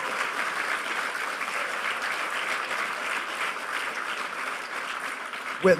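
Conference audience applauding the volunteers at a hacker conference, a broad, sustained round of clapping from a large room, fairly even throughout, with a brief louder knock or bump right at the end.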